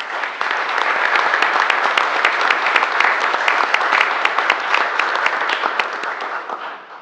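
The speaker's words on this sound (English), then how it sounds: "I have a round of applause." Applause at a borough council meeting in Madison, New Jersey, many hands clapping in a dense, even patter for several seconds, close and fairly loud, tapering off at the very end.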